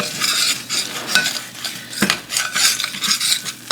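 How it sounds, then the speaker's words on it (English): A flour and butter roux frying in a pan for a baked ziti white sauce, stirred briskly with a metal utensil: close, continuous scraping and clinking over a bright sizzle, with a sharp knock midway. "You want to let it fry you want to let your roux fry for probably about a minute or 2."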